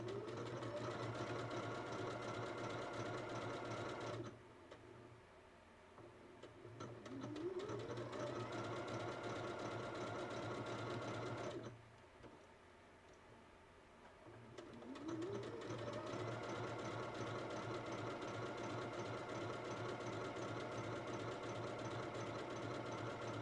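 A sewing machine stitches fabric in steady whirring runs, stopping twice for a few seconds before resuming and slowly ramping back up, fairly quiet and close with no talk.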